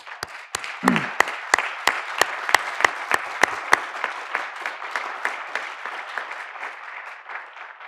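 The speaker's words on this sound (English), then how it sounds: "please join me one more time in recognizing all of our award winners with a round of applause." Applause at an administrative awards ceremony for the award winners, starting as a few sharp, evenly spaced loud claps that carry over a lighter, scattered patter of clapping from the audience, then thinning out.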